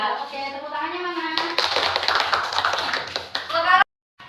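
A burst of lively group clapping from many hands, loud and dense, following a voice and ending abruptly.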